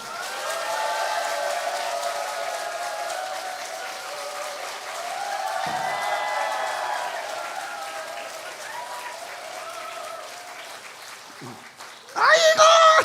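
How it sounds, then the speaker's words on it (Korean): A church congregation applauds a welcomed guest, sustained crowd clapping that swells twice in long waves, with someone talking over the applause near the end. "큰 박수로 맞아주세요."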